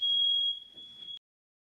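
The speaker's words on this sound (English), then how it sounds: "set off the smoke detector." A smoke detector sounds a single continuous high-pitched electronic tone, loud and close, holding for about a second before cutting off abruptly into silence.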